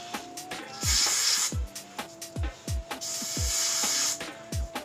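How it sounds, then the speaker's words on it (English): Two long hissing bursts of hair spray, close and fairly loud, separated by short clicks and taps, with a faint steady tone underneath. "just spray it real good"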